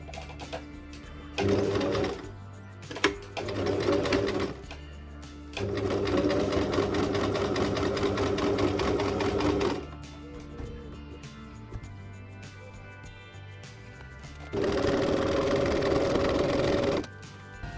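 Edge stitching along the waistband of linen pants on a sewing machine: four loud, close bursts of rapid stitching, one long run in the middle, separated by quieter handling pauses.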